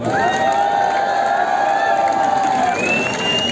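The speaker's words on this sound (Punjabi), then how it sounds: "ਤਾੜੀ ਭਰਾ ਦੇ ਨਾਂ ਦੇ ਲਾ ਦਿਓ" A crowd cheering and applauding at a gathering with Punjabi film stars, a loud continuous wash of voices and whoops, with sustained shouted tones rising above the clapping noise.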